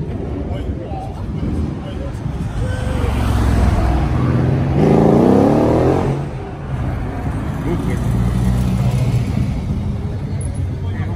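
Aston Martin cars, including a DB9 and Rapide, pass fast at Place Vauban in Paris, one rising and fading engine roar in the middle over a loud city rumble, while people talk nearby.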